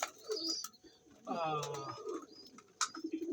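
A pigeon coos softly up close, a low warbling call in the middle, amid scattered chirps and light rustling.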